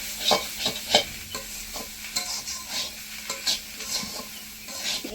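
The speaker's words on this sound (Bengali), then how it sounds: "কিছুক্ষণ ভালো করে ভেজে নেব" Prawns fry in a pan with a steady sizzle while a utensil scrapes and stirs them in quick, uneven strokes close by. No one speaks.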